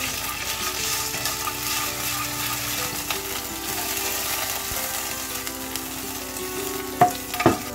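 Garlic sizzling in a little olive oil in a pan for gizzard ajillo, a steady close hiss of frying throughout, with a couple of utensil clinks near the end and no talking.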